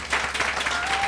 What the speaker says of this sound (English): Let's just cheer and clap